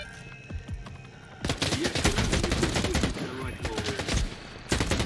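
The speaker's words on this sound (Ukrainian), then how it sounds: "В мене стріляють і кидають гранатами" Bursts of rapid gunfire and scattered shots crackle continuously in the video game S.T.A.L.K.E.R. 2: Heart of Chornobyl, with grenades thrown and a brief lull before another volley near the end.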